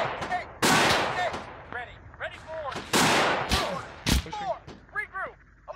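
A video game squad shooting together, with several loud, sharp gunshot cracks and short volleys spaced irregularly, mixed with overlapping radio-style voices talking throughout.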